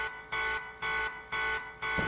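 In the DayZ video game, an electronic alarm buzzes in regular repeating bursts, about four evenly spaced loud pulses of a harsh tone with short gaps between them.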